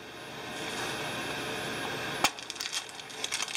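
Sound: spent pistol shell casing set down

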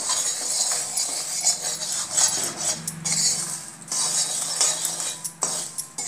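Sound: lotus seeds (makhana) being roasted and stirred in desi ghee

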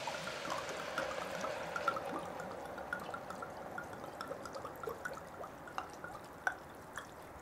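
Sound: pouring a bottle of red wine over red cabbage in a Dutch oven

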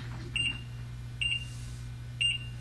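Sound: Harmony washer beeper test in setup mode

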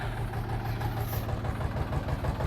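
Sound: Kentavr 244SX tractor engine running

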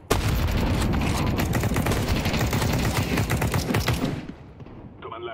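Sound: gunfire in a video game hallway shootout

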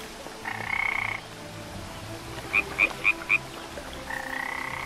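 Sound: frog croaking in a video game

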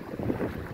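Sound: wind

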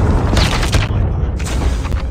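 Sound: predator missile strike explosion in Call of Duty Mobile video game

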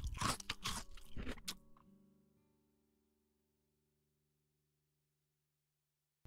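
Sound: shark munching and crunching on a fish's house

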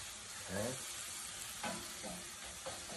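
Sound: food sizzling in caramel sauce

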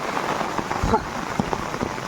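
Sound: rain falling

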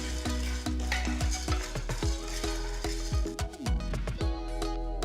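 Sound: chana dal and urad dal roasting in a pan

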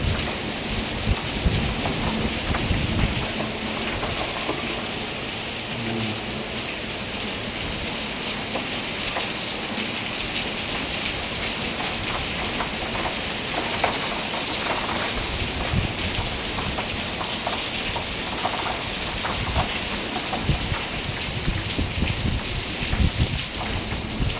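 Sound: heavy rain

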